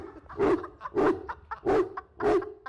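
A dog gives four evenly spaced, whining barks with high whimpering overtones, close and fairly loud, each call separated by a short pause in a busy street scene.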